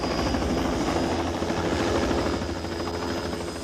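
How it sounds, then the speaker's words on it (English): A helicopter flies nearby with a dense, continuous rotor roar that holds steady and then eases slightly toward the end, with no voices. "For the veterans, the sound of the helicopter still evokes memories of a now distant war."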